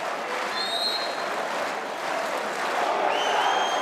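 Fervent Hungarian crowd at a women's water polo match between Hungary and Canada, producing a steady, dense wash of cheering and applause throughout, with a few whistle-like tones rising above the roar.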